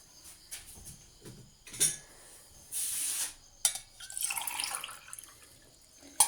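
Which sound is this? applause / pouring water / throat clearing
pouring water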